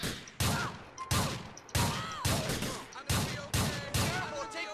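Suppressive gunfire in the video game GTA IV, in a police patrol mod, cracks out as about seven loud, evenly spaced shots, each trailing a short echo.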